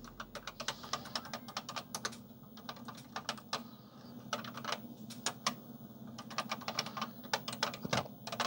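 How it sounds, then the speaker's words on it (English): Irregular clacking keystrokes on the keyboard of an LSI ADM 1 computer terminal, typed in quick bursts with short pauses over a steady low hum. "I'm just gonna type some stuff."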